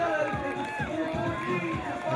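A beach volleyball crowd at the England Beach Tour finals cheers and claps steadily, a continuous roar of applause with a commentator talking over it.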